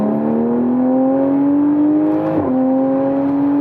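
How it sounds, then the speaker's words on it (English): A Toyota A90 Supra fitted with a downpipe exhaust drives steadily, its engine drone holding a smooth rising pitch with a brief dip as it shifts, heard from inside the car without talk. "I can hear the car driving right now, but of course it's louder"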